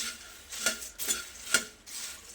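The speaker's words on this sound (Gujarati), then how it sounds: "બધું સરસ મિક્સ કરી લઈશું." A spoon scrapes and stirs spiced puffed rice in a pan, giving a few rhythmic rustling sweeps with light metallic clinks, close up.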